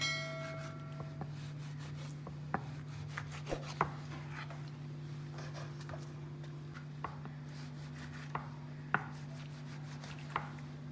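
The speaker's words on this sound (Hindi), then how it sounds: "ये सारे कट लगा लूंगी मैं।" A knife cuts slits into raw, unwashed whole chicken for a restaurant-style steam roast, giving scattered sharp taps and soft scrapes against a steady background hum, no talk.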